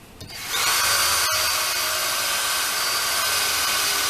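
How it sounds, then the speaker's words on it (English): A power drill with a dull bit bores a hole into the corner of a wooden swarm trap, spinning up quickly into a steady, loud high-pitched whine that runs on with a brief dip partway through. "We're just going to drill a hole in the corner."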